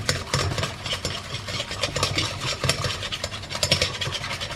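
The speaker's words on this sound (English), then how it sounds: "Then we just keep going, keep whisking all the time." A whisk scraping steadily around a warm pan of custard for rhubarb crumble, a continuous busy rhythmic stirring and rubbing, close and fairly loud, with no talking.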